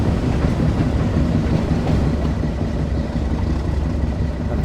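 A Class 08 shunter pushes a rake of wagons toward a station in the Train Sim World 2 West Cornwall line, a steady rumbling roll of wheels and engine, close and loud throughout.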